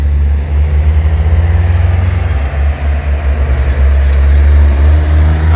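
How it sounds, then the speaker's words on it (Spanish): A tractor hauling a cane basket at the Palo Gordo sugar mill in San Antonio, Suchitepéquez, with a loud, close diesel engine drumming in a deep, steady, pulsing rumble and no voices. "Y ahí viene otro tractor con otra canasta."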